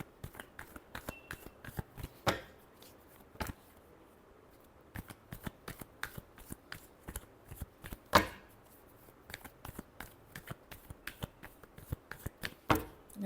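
Tarot cards are shuffled by hand, a long run of crisp, close slaps and riffles coming in irregular bursts with brief pauses, quiet overall and without talk.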